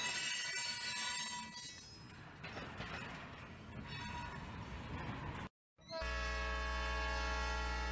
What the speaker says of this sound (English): Illinois and Midland number 43 pulls 9 cars along Pekin's riverfront on April 21, 2018.